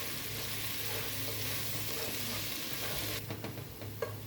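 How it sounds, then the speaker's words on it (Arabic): Garlic cloves fry in a pan with a dense, even sizzle close by, then the crackle grows uneven as they are stirred. "هشوح الثوم لحد ما ياخد لون ذهبي خفيف"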